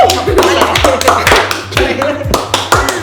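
An audience gives a round of applause, clapping in rapid, uneven bursts close by and loud, with a voice talking over the claps.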